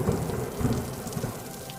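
Heavy rain pours down with low rumbles of thunder underneath, a continuous loud wash of sound with no voices.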